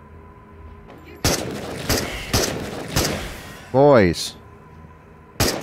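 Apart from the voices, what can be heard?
gunfire in video game Into The Radius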